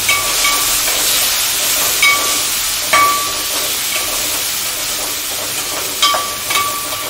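Onions and green chillies fry in oil in a pan for bhagare baingan, giving a steady, loud hiss and sizzle throughout with a few brief louder crackles.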